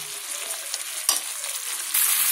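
Masala spices with Kashmiri red chilli fry in a pan, giving a close, bright sizzle with a stirring scrape midway and a louder hiss surge near the end, no talk.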